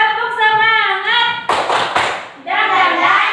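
A small group of students in a classroom does a rhythmic spirit clap, a quick cluster of sharp claps in the middle, with chanted voices before and after.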